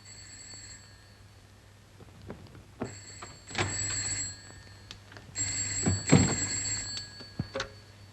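An old 1940s telephone bell rings in bursts of rattling electric ringing, with a pause between rings and some knocks and clicks around them.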